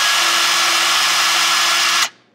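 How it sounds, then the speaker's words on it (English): Power drill spinning a Trex 250 helicopter ball link to loosen it, a loud steady whirring drone with a faint tonal hum that runs without a break for about two seconds, then cuts off abruptly and winds down. "run the drill, test it,"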